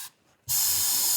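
Brake cleaner sprays from an aerosol can into a 1950 Plymouth barn-find car, starting with a brief hiss, then a gap, then a loud, steady, close hiss that continues to the end.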